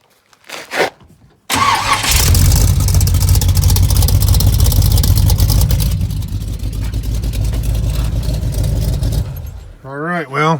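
A Chevrolet C10 with a swapped small-block Chevy V8 starts after a few faint clicks, then runs loud and steady with a deep idle rumble that shifts slightly partway through, and a brief voice is heard at the very end.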